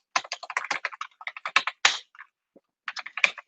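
Rapid bursts of keystrokes on a computer keyboard while CSS display grid code is entered, uneven clusters of clicks with short pauses, close and clear with no talk.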